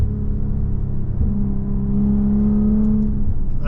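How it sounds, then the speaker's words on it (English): A 2024 Maserati Levante GT Ultima SUV accelerating smoothly through its gears, a steady loud engine drone and cabin rumble with a rising tone that shifts as it changes gear, no talk over it. "I love the acceleration. Nice and smooth, gets through the gears."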